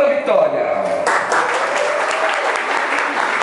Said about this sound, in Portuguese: eu queria que todas fossem aplaudidas